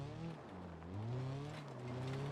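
A car engine in BeamNG revving hard as the wheels lose traction, a loud, steady drone whose pitch sags and then climbs again, alone and close.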